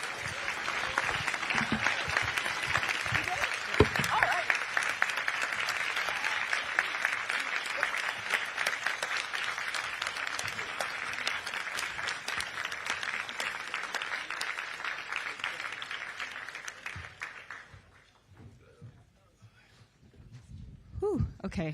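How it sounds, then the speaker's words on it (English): A conference audience at an anti-monopoly summit applauds Senator Elizabeth Warren with sustained, dense clapping that holds for about seventeen seconds before fading, followed by a brief lull and low background murmur. "give them both a round of applause"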